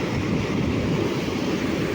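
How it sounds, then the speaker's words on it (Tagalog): Heavy ocean surf roars continuously, a dense, rumbling wash of waves with wind noise over the microphone and no talking. "Taas po ng alon dito guys."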